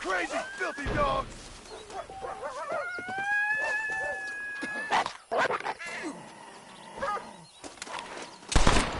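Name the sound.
dogs barking and howling in video game Red Dead Redemption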